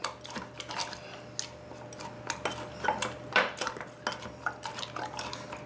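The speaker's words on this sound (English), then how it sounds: "And we're going to mix all this up." Sugar and lime for a frozen mojito being mixed in a glass or bowl, with repeated clinks and scrapes of a spoon against the sides in an irregular stirring rhythm, close and fairly loud, with no talking.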